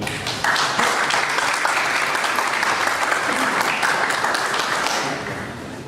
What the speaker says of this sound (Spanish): pido recibir con un fuerte y merecido aplauso